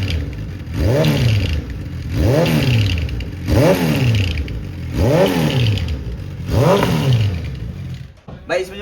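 A superbike engine with a dB killer in the exhaust revs hard five times in a steady rhythm, each burst rising and falling, loud and close, with a brief clatter at the end.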